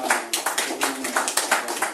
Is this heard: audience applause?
yes